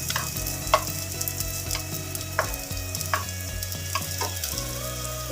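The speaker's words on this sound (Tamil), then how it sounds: "நல்லா பொன்னிறமாகிட்டு சிம்மிலே தான் வச்சு வதக்கினேன்" Onions sauté gently in oil over a low flame for beef chukka, giving a soft steady sizzle with a few light stirring clicks over a sustained tonal background.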